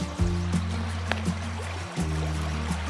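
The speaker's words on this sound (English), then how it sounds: "this is the river here." The Red River flowing through Palo Duro Canyon in Texas, a steady close trickle and gurgle of shallow stream water under a low continuous hum.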